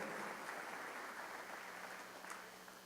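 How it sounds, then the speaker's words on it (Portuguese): A church congregation applauds during a sermon, an even wash of many hands clapping that holds steady and tapers slightly toward the end, faint and somewhat distant. "pode aplaudir, porque essa é a realidade mesmo"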